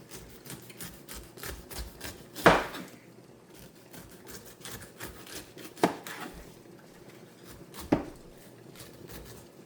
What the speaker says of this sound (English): Just running your knife along the side